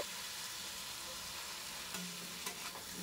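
Tomato and Kashmiri chili powder fry in a pan with a steady, close hiss, and a few brief clinks of stirring stand out near the end.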